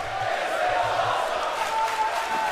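Arena crowd noise from a WWE 2K wrestling video game, a steady mid-level roar of cheering fans with a faint chant-like tone running through it.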